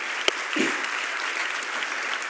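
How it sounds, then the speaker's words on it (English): Audience applause at a festival talk stage fills the room with a steady, dense wash of clapping, moderately loud and continuous throughout, with one sharp isolated clap near the start. "they deserve an applaud for that"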